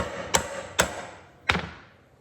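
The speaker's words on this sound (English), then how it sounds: "smash it with a hammer" Three sharp metallic hammer taps seat a seal onto a 1957 Dodge engine, a 361 dual-quad big block, each strike ringing briefly and spaced unevenly, close and alone with no talk.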